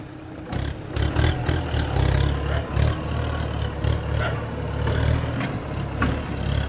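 A Kubota M108S tractor with an air-conditioned cab runs while pushing soil. Its engine makes a low, throbbing drone under scattered clattering and background outdoor noise.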